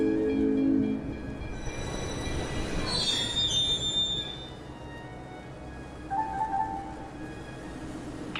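A cargo train in a video game rolls along the rails with a steady rumble, its wheels squealing in high metallic whines near the start, middle and end.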